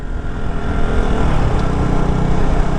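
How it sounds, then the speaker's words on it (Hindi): Motorcycle engine revving with a throttle blip during a rev-matched downshift, the loud close engine note rising and holding through the short stretch. "if you don't want to use that technique then you gotta blip like this"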